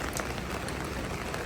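Steady rain falls on the streets of Esto-Sadok near Rosa Khutor in Sochi, a dense continuous hiss of drops pattering on wet surfaces and umbrellas, close and even throughout.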